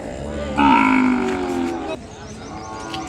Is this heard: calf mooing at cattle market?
yes